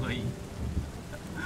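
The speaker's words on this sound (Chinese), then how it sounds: "下雨喽，下雨喽" Rainfall in the terraforming video game Terra Nil, a steady soft wash of rain with low rumbling underneath, fairly quiet and continuous throughout.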